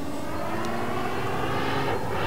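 Engine of a 104-inch Extra 300 radio-controlled aerobatic plane near full throttle, recorded on board as a loud, steady, unbroken drone with a slight pitch shift near the end.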